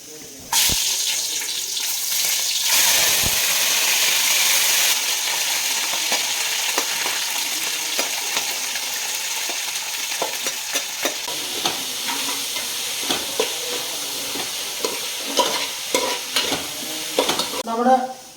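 Onions sautéing in a pan for beef curry gravy: a loud, steady sizzle at first, then softer frying broken by repeated scraping and clinking stirs, heard close up.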